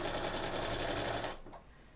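A sewing machine stitches steadily at speed during free-motion calligraphy embroidery, a loud, even mechanical whir that stops abruptly near the end and leaves a faint quiet tail.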